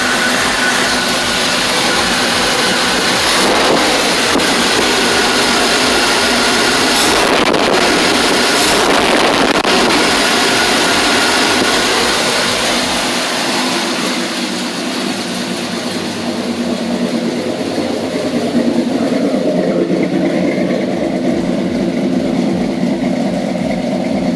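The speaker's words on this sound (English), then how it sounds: "Yeah, I think I'm gonna have to idle it back down. I think that's the timing I'm needing in it." An engine idles loud and continuously at close range while its timing is adjusted, with steady rumble and wind buffeting the microphone throughout.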